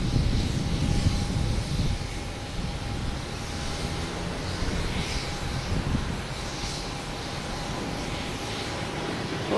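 A JetBlue Airbus A320 arriving from Orlando at Boston Logan Airport gives a continuous engine roar, a wide steady rumble slightly heavier at the start and otherwise constant, with no voices.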